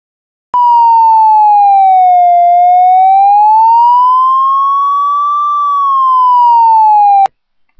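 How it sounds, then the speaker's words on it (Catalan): A bank alarm siren wails as a single loud, pure electronic tone that slowly sweeps down and up in pitch for about seven seconds, then cuts off abruptly, alone with no voices. "ha saltat l'alarma del banc"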